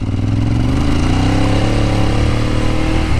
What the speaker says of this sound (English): rear wheel spinning up, no, here we go